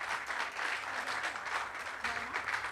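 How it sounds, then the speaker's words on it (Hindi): Loud applause breaks out from an audience at a website launch event, a dense steady clatter of clapping lasting a few seconds with a brief dip midway. "जोरदार तालियां बजी।"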